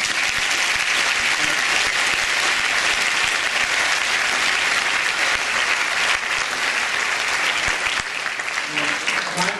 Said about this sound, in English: So, here is an applause for the parents.